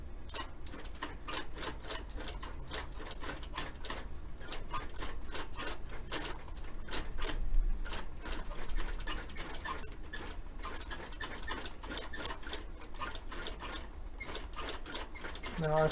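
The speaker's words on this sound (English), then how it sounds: "Now I've set this machine up for thin needle and thin thread for, you know, jobs like this." Steady rapid stitching from a shoe-repair sewing machine fitted with a thin needle and size 46 thread, a fast even mechanical clatter close up that runs unbroken throughout.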